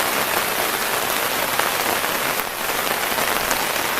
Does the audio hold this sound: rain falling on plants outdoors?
yes